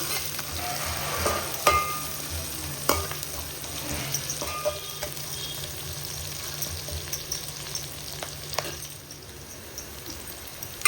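Onions sizzle steadily in a hot pan for mushroom biryani, with a few sharp stirring knocks against the pan over a constant hiss of frying.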